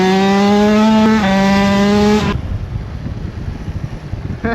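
Kawasaki KX 85 dirt bike engine running at a loud, steady high-pitched rev with a brief dip near one second, then cutting off abruptly to leave rough wind-like rumble.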